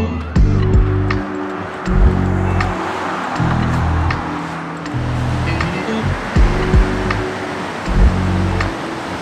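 Ocean surf breaking on the shore at Santa Cruz, loud and close, with a broad continuous wash of foam and a low rumbling swell, plus a few brief louder thumps.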